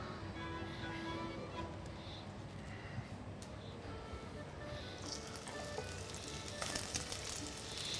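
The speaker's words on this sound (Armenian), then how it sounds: "Եվ սկսում ենք տապակել սոխը։" Onion frying in hot oil in a pan, a steady soft sizzle throughout with occasional brighter crackles and stirring noises, close but fairly quiet, no talk.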